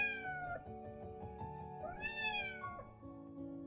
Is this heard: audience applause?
no